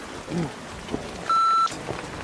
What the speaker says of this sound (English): And now it's raining very hard.